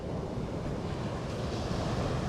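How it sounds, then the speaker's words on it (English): Ocean waves from a relaxation app, a steady broadband wash of surf with a low rumble, even and continuous throughout with no voices. "Very popular one is just ocean waves."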